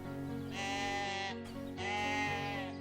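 Two drawn-out sheep bleats from the video game Divinity: Original Sin, clear and close, separated by a brief pause over a quiet ambient background.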